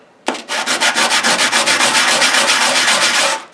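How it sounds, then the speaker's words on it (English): A 3 lb silver nugget is sanded by hand with 100 grit sandpaper in steady, rapid back-and-forth rasping strokes, loud and close, about a dozen even strokes over three seconds. "100 grit sandpaper"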